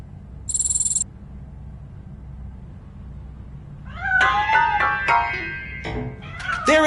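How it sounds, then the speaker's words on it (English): A cat meows several times in Robocop Rogue City, a cluster of close, wavering cries near the end over a low ambient hum, after a short high tone near the start. "That cat must be hiding inside."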